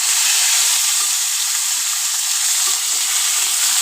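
Potato, pointed gourd and drumstick pieces fry in a pan of hot oil with a loud, continuous hiss and sizzle that holds steady throughout, with no stirring accents standing out.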